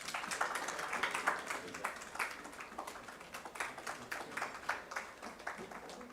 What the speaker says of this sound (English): Ladies and gentlemen, please may I have a round of applause.